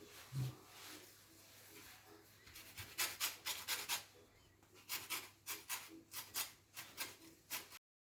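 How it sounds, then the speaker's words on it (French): Lemon being zested on a metal grater while mixing a dough for Oriental cakes, heard as a series of close, rhythmic rasping strokes that start hesitant and settle into a steady back-and-forth scraping. "Je zeste un citron"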